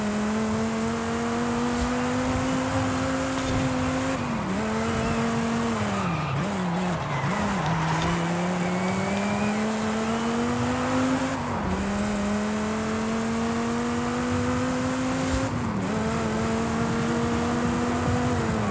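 Racing car in Forza Horizon 5 with a steady, loud engine drone whose pitch rises and dips through gear changes, broken by tire squeals and skids in the corners.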